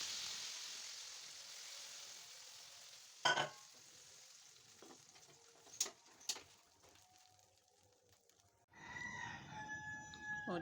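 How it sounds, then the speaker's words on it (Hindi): Tadka tempering sizzling for haleem in a home kitchen: a steady hiss of hot oil runs through, broken by a few sharp spits and crackles, then a louder, denser sizzle bursts in near the end, close by, with no talking. "तो बस अब इसको हलीम पे तड़का लगाऊंगी"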